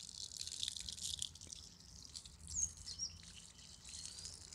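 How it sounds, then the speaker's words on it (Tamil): Water runs from a pipe tap at the Maruthady Vinayagar temple in Manipay, Jaffna, as a faint steady hiss in the open air, with soft bird chirps in the background. "இந்த தண்ணி நீர் எப்படி வருது, இதை எப்படி புஷ் பண்ணினா தண்ணி வரும்"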